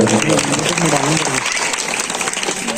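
Loud clapping rises from the crowd at a local political gathering addressed by an MLA, a dense, close rattle of hands. A speaker's voice runs over the first half before the applause carries on alone.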